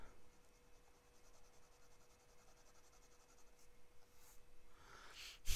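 A fountain pen with a very wet, juicy nib scratches across an A4 paper page during an ink test, producing faint, soft continuous scratching strokes in a quiet room, with a brief louder rustle at the end.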